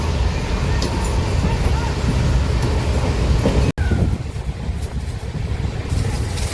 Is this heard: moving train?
yes